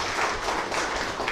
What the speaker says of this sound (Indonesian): Jadi tepukan kepada semua ini.